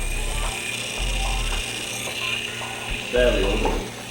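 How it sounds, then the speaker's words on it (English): A counter-rotating gearbox runs with a steady mechanical hum and a faint ratcheting, gear-like whir, with brief pulsing low thumps and a slight rise in the noise toward the end. "Every once in a while they make a little noise, the gearbox."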